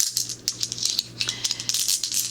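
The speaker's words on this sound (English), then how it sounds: "I've always loved the sound of Pebbles." Small stones rattle and clatter in quick, uneven bursts, close by, with no voices.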